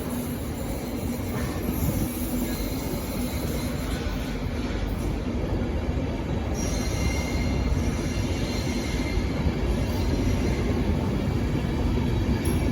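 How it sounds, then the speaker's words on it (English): An LNER Intercity 225 set departs London King's Cross for Leeds with a loud, close, continuous rolling rumble of wheels on rails and steady wheel squeal throughout, and no talking. "departing now is an LNER Intercity 225 set bound for Leeds"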